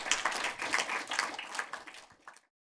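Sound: audience applause for director Anna Roller and cameraman Felix Flieger

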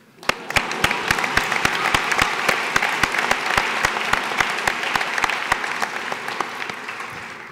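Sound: graduation ceremony audience applauding

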